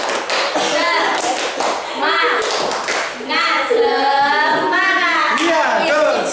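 A classroom group of children performs a rhythmic spirit clap, fast hand claps and thumps mixed with loud chanted voices, close and lively throughout.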